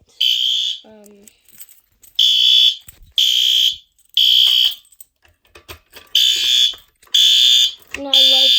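A fire alarm sounds in repeated loud, high-pitched bursts of about a second each, separated by short gaps, with brief quieter sounds between some bursts.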